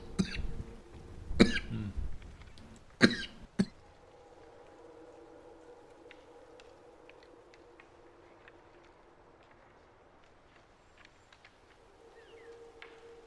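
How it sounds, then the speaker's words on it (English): A person coughs hard several times in a short fit of sharp, loud bursts up close, then goes quiet as faint game sounds continue in the background. "Sorry, having a coughing fit here."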